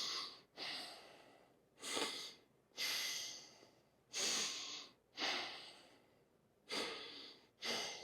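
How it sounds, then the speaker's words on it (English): Forceful nasal breaths come during a hip adductor stretch, eight sharp rushing inhales and exhales in an even rhythm, close and loud, with quiet gaps between them. "Nasal breathe as much as you can."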